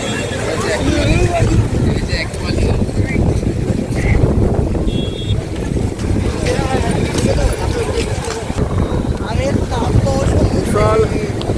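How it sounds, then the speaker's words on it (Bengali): Sea wind and breaking waves on the beach at Digha make a steady, loud broadband roar for the whole stretch, with distant voices and crowd babble underneath. "খুব সুন্দর হাওয়া আর বিশাল ঢেউ"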